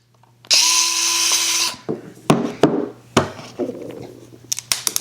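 A Fanttik Nex S2 Pro electric screwdriver whirs steadily for about a second, close and loud, then stops and is followed by several sharp knocks and scrapes of the tool and screws against wood.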